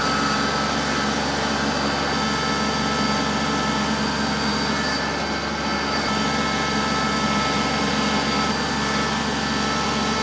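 A tractor running a tilling implement gives a continuous loud mechanical engine drone with steady grinding noise, unchanging throughout and no voices.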